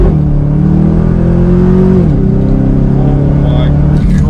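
2013 Chevy Camaro ZL1 engine revving under hard acceleration, a loud close roar climbing in pitch, dropping briefly at a gear change, then climbing again.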